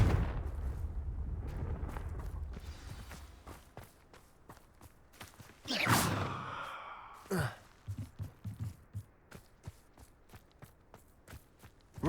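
The Confringo blasting spell cast in the video game Hogwarts Legacy: a loud whooshing burst with crackling impact midway, set among footsteps, breathy sighs and scattered sharp thuds.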